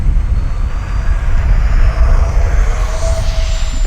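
An FMS Avanti S 70mm RC jet with takeoff flaps set rolls out for takeoff, its ducted fan a steady, loud whooshing whine over rumbling ground noise, sustained throughout.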